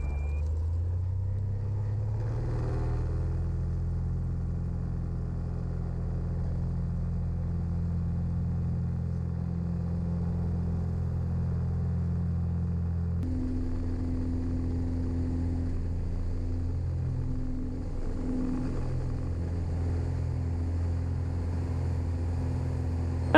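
Small airplane engine on its takeoff roll from runway 25 at Vanderhoof, a steady low droning rumble that rises in pitch partway through and holds on strongly throughout.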